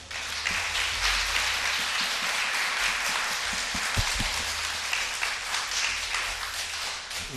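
A church congregation claps to welcome a pastor to the front for a special revival service, a dense, steady wash of applause from a large indoor crowd with a few sharper claps rising out of it.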